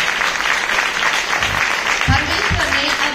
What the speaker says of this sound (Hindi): जोरदार ताली अपने परमेश्वर के लिए।